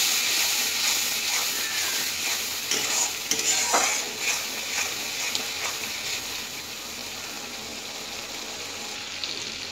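Spices with Kashmiri chilli powder and biryani masala stirred in a frying pan for a paneer dish, a steady hiss of sizzling with a few soft scraping strokes, close and continuous without speech.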